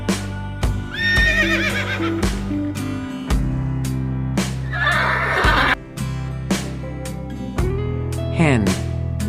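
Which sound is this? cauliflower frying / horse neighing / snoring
horse neighing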